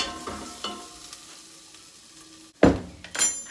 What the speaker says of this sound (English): And then add that to the onion mix.